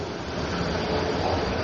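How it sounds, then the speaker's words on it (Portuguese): Inside a moving metro subway train: a steady, loud rumble of wheels and car noise fills the whole stretch, with no voices. "Eu tô no metrô ainda."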